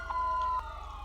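A police car siren sounds during a patrol driving session in the game FiveM, a steady tone held for about half a second and then fading, with no talking.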